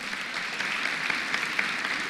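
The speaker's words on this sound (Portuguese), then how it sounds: "uma salva de palmas" An audience applauds steadily and densely throughout, a continuous wash of many hands clapping at even loudness, with no voices standing out.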